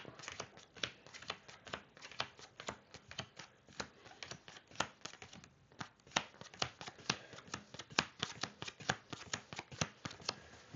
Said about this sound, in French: pour Skyjo, on va mélanger les cartes et on va distribuer 12 cartes chacun